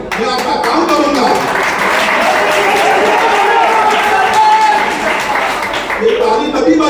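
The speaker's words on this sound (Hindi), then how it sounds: "ये ताली तभी बजाइएगा" Audience at a political rally in Ulhasnagar clapping and cheering together, a dense, loud wash of applause and crowd noise sustained throughout, with a speaker's voice over it.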